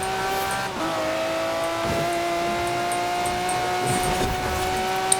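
Race car in Forza Horizon 4 accelerating hard, a loud steady engine whine climbing through gear shifts with brief tire squeal, no voices.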